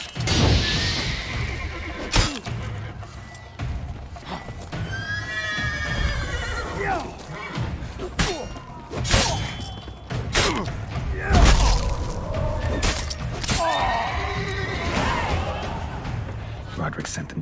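Horses neigh and whinny several times in The Witcher 3, with hooves clip-clopping and occasional clanks and thuds, heard under game dialogue.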